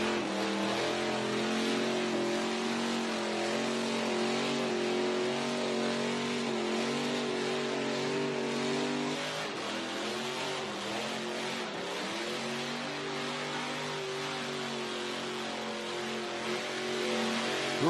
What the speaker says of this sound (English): More burnout action coming our way, ladies and gentlemen.